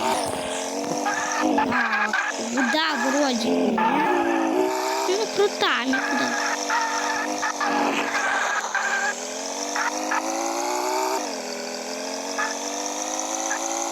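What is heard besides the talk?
car driving with tires squealing in a video game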